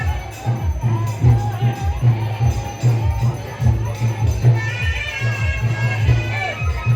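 A crowd gathers at a Bel Nyoti puja procession in Nagwas, Benipatti, with a steady murmur of many voices under a nearby voice talking and a rhythmic drum beating throughout.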